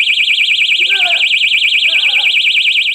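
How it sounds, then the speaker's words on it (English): A Doberman personal jogger safety alarm blares close and loud with a rapidly warbling high electronic tone that never lets up, while someone talks briefly underneath. "this alarm is pretty loud"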